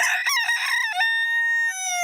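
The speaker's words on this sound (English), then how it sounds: "He's a cockerel." A cockerel crows loudly and close by in a cartoon farmyard, a rising cock-a-doodle-doo followed by a long held tone, with a short higher note at the end.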